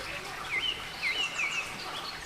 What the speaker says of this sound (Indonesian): suara kicau burung